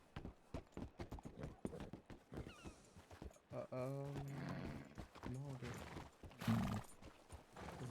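Hooves clip-clop in a quick irregular rhythm before a horse gives a long whinny, then a shorter one, all fairly close, with people talking over and around the sounds.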